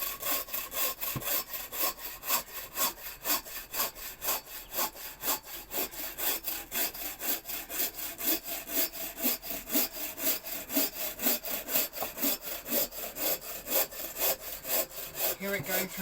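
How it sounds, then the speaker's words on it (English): A handsaw works through a firewood log in a steady rhythm of back-and-forth strokes, each rasping pass close and clear, continuing without pause throughout. "Hear it going through the last bits."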